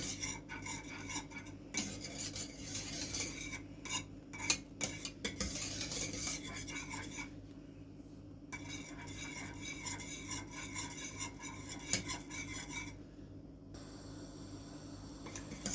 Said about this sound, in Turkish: Dibine tutmadan karıştıralım.